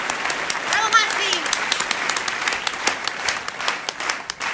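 Applause at an Italian home-broadcast show, a steady stream of claps lasting several seconds with voices mixed in underneath.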